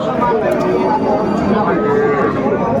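A loud, close, drawn-out moo from a bull calf at a cattle market, with other cattle sounds and some talking mixed in.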